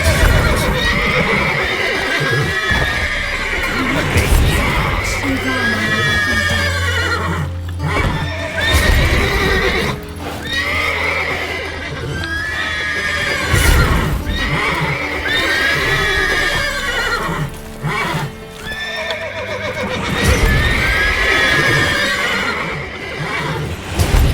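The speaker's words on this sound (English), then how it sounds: "Gotta calm all the horses before the" Horses neigh and whinny repeatedly in a video game, with clip-clopping hooves underneath, loud and close, the calls recurring every few seconds.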